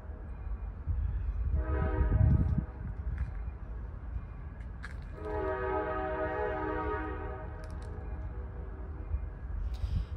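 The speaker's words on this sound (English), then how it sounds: "We'll wait for the train." A passing train sounds its horn twice, a sustained tonal blare over a low rolling rumble, heard from some distance outdoors in a garden in winter.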